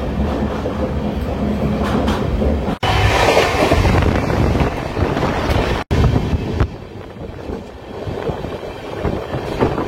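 An Amrit Bharat Express rolls along the tracks near the Deulti curve toward Kolaghat, a loud continuous rumble with wheel clatter and wind rush, two sharp breaks in the sound, easing slightly toward the end.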